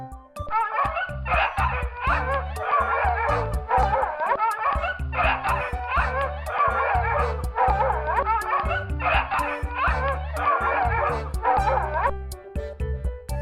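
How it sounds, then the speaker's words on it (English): A dog yips, whimpers and barks in repeated bursts with short pauses, loud and close, alone against a steady background tone. "Dog."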